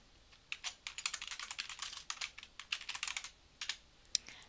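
Rapid, uneven keystrokes on a computer keyboard, typing out a short abbreviation as a text-replacement entry, close and fairly quiet with brief pauses between bursts of clicks.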